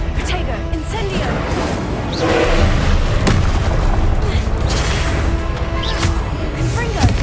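Fiery blasting-spell explosions from Hogwarts Legacy gameplay, loud booming bursts going off repeatedly amid dense combat noise, with a voice speaking over the action.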